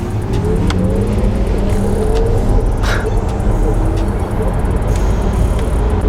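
A Porsche Taycan electric car pulls away and speeds up, a faint motor whine rising steadily in pitch over loud, constant road and wind noise.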